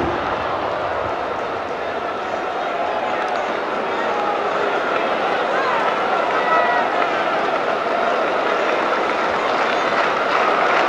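Baseball crowd at Fenway Park during a 1990 Royals at Red Sox game, a dense continuous roar of many voices rising slightly toward the end, steady and fairly loud.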